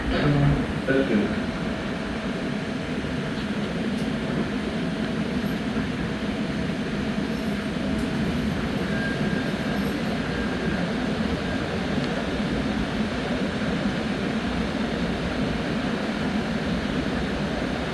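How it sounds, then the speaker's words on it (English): Continuous low rumble of a Chicago Purple Line express train running, steady and close, with a roaring drone and faint mechanical whine throughout. "This is the purple line train to Addison."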